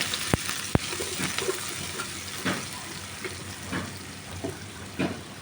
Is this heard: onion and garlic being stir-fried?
yes